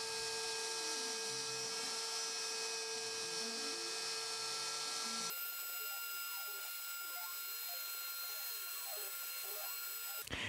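A CNC machine carves a wooden spinning top with a steady high mechanical whine and tonal hum, its pitch sweeping up and down in repeating arcs as the cutter moves; the tone shifts partway through, continuous and fairly close throughout.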